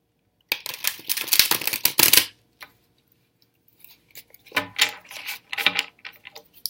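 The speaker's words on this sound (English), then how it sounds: "Now I'm going to shuffle the cards" Quick riffling and snapping of playing cards being shuffled, two bursts separated by a short pause, close and crisp.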